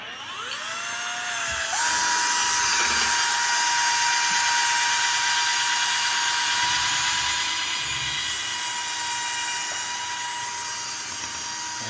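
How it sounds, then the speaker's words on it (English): A power drill with a paddle mixer whines up to speed and holds a loud, steady high-pitched spin for several seconds, with faint churning of a sugar wash beneath it. "Another cool thing about these drill paddle guys is that they will go straight"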